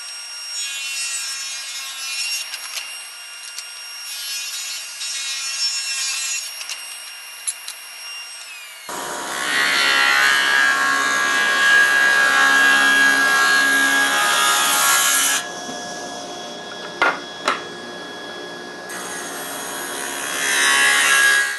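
A saw blade cutting wooden strips for a sushi tray: a steady whine and rasp of the blade biting through wood, close and loud, rising partway through as the cut gets going, with a few brief knocks and no talking.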